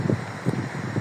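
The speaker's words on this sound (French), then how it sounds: "Je sais pas si on va entendre ce que je dis avec tout ce vent." Wind blows hard across a microphone outdoors on the route to Santiago de Compostela, a loud steady rumble with brief puffing bursts that fills the whole short stretch.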